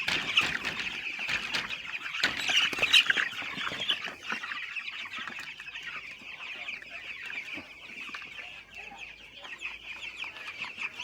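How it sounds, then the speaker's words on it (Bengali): Young broiler chickens on a poultry farm, about sixteen days old, keep up a dense chorus of high peeping and clucking, with occasional wing flaps and rustling nearby. "দেখুন মুরগিগুলো এ গ্রেডের বাচ্চা"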